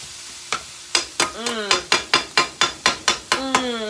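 Cabbage frying in a pan, sizzling under a rapid series of about a dozen sharp ringing metal clacks as a utensil strikes and stirs in a steady rhythm.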